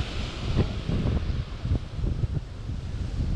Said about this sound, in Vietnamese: Gió mạnh lắm, trời ơi,